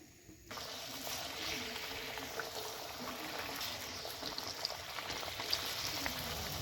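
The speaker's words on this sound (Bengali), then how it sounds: "এবারে বাদ বাকিগুলো একইভাবে আমি ভেজে নেব" Semolina snacks deep-fry in hot oil, a steady bubbling sizzle starting abruptly and continuing evenly at close range, with faint crackles and no talk.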